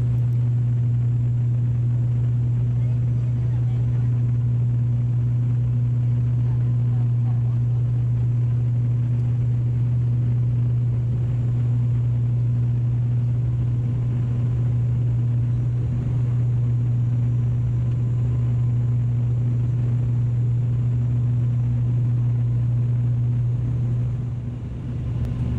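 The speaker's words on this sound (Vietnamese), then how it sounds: "Mình nghe nói nhiều người sợ bay với ATR-72 vì máy bay bị ồn và lắc." Cabin of an ATR-72 turboprop airliner in flight through bad weather toward Côn Đảo: a constant loud low drone of the propellers with a steady tonal hum and airy rush, unchanging throughout, no voices.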